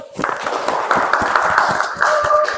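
A classroom of students clapping for a group of classmates, a dense steady patter of many hands held for a couple of seconds, close and fairly loud with no talk.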